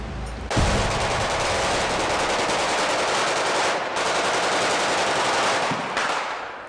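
Machine gun fire on a TV action film set with squib ground-hit effects, heard as a loud, sustained rapid burst of automatic shots lasting several seconds, close and dense with brief dips, no speech.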